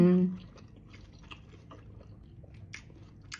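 Close, soft, sticky chewing of fresh homemade mochi filled with strawberry and muscat grapes, a wet irregular mastication that follows a brief hummed murmur of enjoyment.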